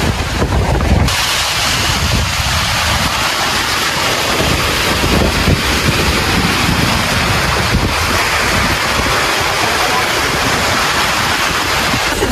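Very strong wind at Lake Sebu in South Cotabato, roaring loudly and steadily into the microphone with heavy buffeting, like a storm blowing across open water, with waves churning along the lake beneath it.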